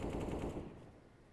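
Bursts of gunfire from a Mag 7 shotgun in CS:GO, played on the Vertigo map in a pro match, dense and loud for about half a second before fading into a quieter tail.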